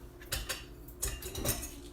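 Mixing bowls and pans clatter and clink in a kitchen during banana muffin baking, with several sharp handling knocks spread across the moment, close and moderately loud.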